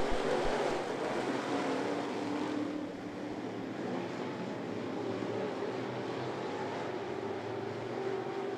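Sportsman race cars lapping at I-75 Raceway, a loud, continuous roar of engines heard from trackside that swells and settles slightly as the field passes, with no voices over it.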